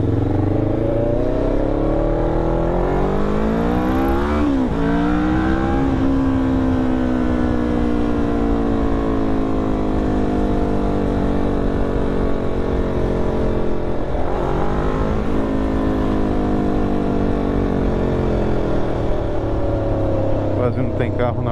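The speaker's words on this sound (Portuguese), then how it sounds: "Tem carro na rua" Steady car traffic rolls along a São Paulo street on a weekday morning, engine hum and tyre noise rising and falling as vehicles pass close by, with a loud continuous drone throughout and no talk.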